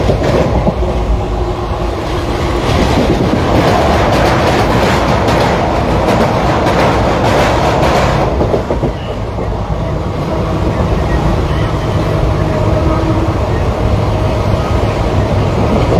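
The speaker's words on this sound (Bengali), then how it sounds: "খুব স্পিডে যাচ্ছে ট্রেন" A fast-moving train rolls on steadily for the whole stretch, with loud continuous rumbling and rhythmic clattering of wheels over the rails. The sound is heard from inside the carriage while a storm is blowing outside, with no clear talk over it.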